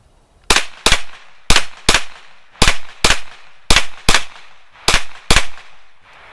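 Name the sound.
Beretta CX4 Storm carbine firing shots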